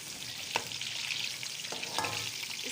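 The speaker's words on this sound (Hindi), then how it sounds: "अब हम इसमें गोल कटी हुई प्याज डाल देंगे और इसको करेंगे अच्छे से ब्राउन" Round-sliced onions hit hot oil in a pan and fry with a steady bright sizzle, broken by a few sharp stirring scrapes and clicks, close up and with no talking.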